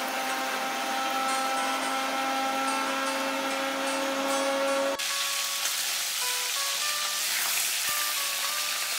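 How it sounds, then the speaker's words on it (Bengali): A kitchen mixer grinder whirs as it blends white mustard seeds and green chillies into a paste. Its close, steady motor drone shifts pitch and texture halfway through as the load changes. "মিক্সিতে আমি এখন এটা পেস্ট করে নেব।"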